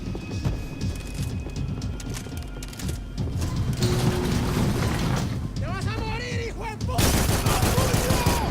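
Gunfire from the video game Max Payne 3 rattles in dense bursts, a steady run of shots over a busy game soundscape with a louder burst near the end.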